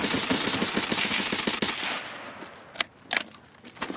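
A video game shootout with an SVDS rifle build: rapid, loud bursts of gunfire crackle continuously at first, then thin out into a few sharp, isolated shots over a quieter background.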